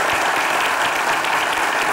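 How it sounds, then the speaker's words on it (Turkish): Audience applause in a Turkish comedy sketch show studio, loud and dense continuous clapping for a short burst, with no speech over it. "Tekrar alkışlıyoruz için."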